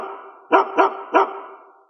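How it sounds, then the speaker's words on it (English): A dog lets out three sharp, close barks in quick succession over about a second, with quiet before and after. "It's the bark heard round the world."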